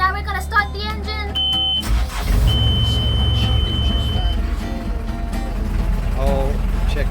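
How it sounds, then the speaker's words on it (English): A sailboat's engine in Indonesia starts with a cranking burst and then settles into a loud, steady low rumble. A high alarm-like tone plays during startup, and people talk over the running engine. "Now we're gonna start the engine."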